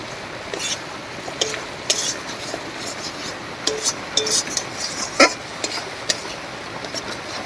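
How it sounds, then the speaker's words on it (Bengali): A spoon scrapes and stirs katla fish curry spices with salt and turmeric in a pan, giving soft repeated clinks and scrapes against the metal over a low steady background, with no voices. "লবণ হলুদ দিয়েও নাড়িয়ে নিয়েছি"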